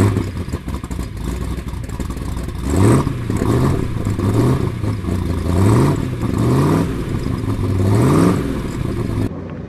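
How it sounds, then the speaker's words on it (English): A De Tomaso Pantera with a 351 V8 starts and revs up repeatedly, loud and close, each blip rising in pitch then falling back to a rough idle over about ten seconds. "Let's start her up and see what it sounds like."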